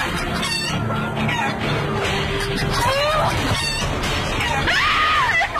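Hens clucking and squawking loudly and close by in a noisy, busy scene, with overlapping cackles and agitated calls, a voice mixed in.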